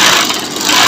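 A sewing machine running right after its power switch is turned on, giving a steady, loud whirring hum with broadband noise and no pauses throughout.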